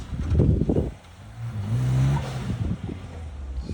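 An off-road vehicle turns around and drives back: its engine revs and drones at a moderate distance, rising and falling in pitch, with brief rustles mixed in and no talking.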